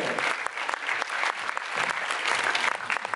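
A KVN comedy show crowd in a karaoke club in Zheleznogorsk bursts into loud, dense applause, many hands clapping close and energetically in a continuous roar with no talking over it.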